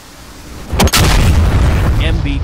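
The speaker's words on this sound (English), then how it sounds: "When locked, fire the missile." Guided missile fired from an AV-8B Harrier at a tank in DCS World, a sudden loud boom followed by a sustained roaring rush that stays loud to the end.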